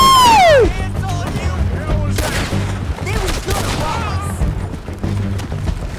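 Gunfire in Red Dead Redemption 2: a loud opening blast, then a running exchange of shots and cracks over a steady low rumble, with people talking over the fight.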